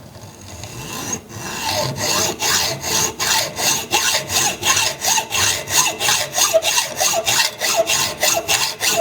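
An old hacksaw cuts through a part clamped in plastic vice jaws, with steady, rhythmic back-and-forth strokes, about twenty of them, loud and close, and no voices.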